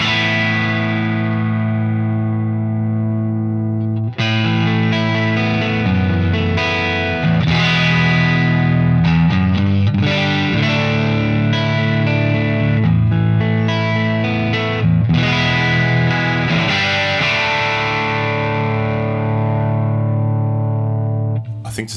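An electric guitar plays through an amp modeled on a Calibro73 with a boost pedal in front, ringing overdriven chords and sustained notes in a continuous strummed passage, loud and full with no talking.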